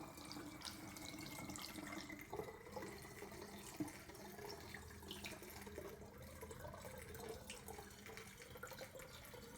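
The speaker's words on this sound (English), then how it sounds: "you fill it up with water, about 2 pints" Water runs steadily from a tap into a Sparklets Hostmaster 2 soda siphon, a continuous soft filling splash with a faint rising tone as the vessel fills.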